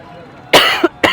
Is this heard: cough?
yes